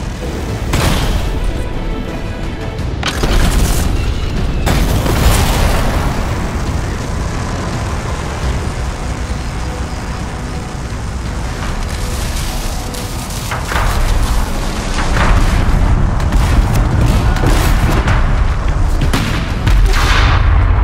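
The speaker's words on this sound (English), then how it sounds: "Stop shooting at me!" Gunfire and explosions in the video game Anthem, with dense continuous shooting and repeated heavy booms that stay loud and busy throughout.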